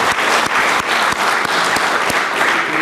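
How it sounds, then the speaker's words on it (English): Audience at a county farm bureau candidate forum claps in dense, sustained applause, loud and close, with no talking over it. "I'd like to give all the candidates a round of applause"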